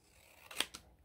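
Scissors cut paper for a small handmade envelope journal, giving two quick, faint snips close by in an otherwise quiet space.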